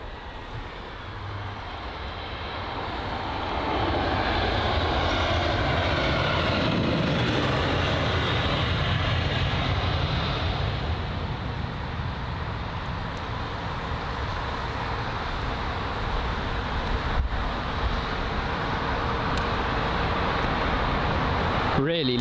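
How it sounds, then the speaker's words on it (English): An Aer Lingus Airbus A320ceo landing at London Heathrow, with a loud, broad roar of reverse thrust that swells after a few seconds and holds steady, heard from a distance with voices talking over it. "Really loud reverse thrusts on board that A320 CEO."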